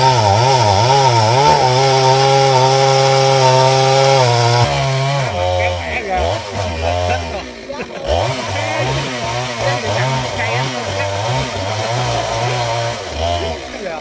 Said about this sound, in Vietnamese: cưa cái gốc me đó